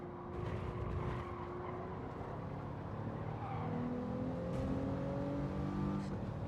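A racing car in a racing video game holds a steady, loud engine note that shifts pitch as it slows under braking, with no talk over it.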